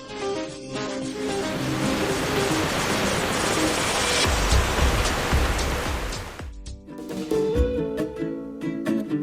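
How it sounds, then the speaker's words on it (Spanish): Four waterfalls pour from an old dam onto rock columns at Huasca de Ocampo in the Sierra de Hidalgo, Mexico, making a loud, continuous rushing roar for about six seconds before it gives way to music. "ver estas columnas bañadas, no por una, sino por 4 cascadas que caen desde una antigua presa"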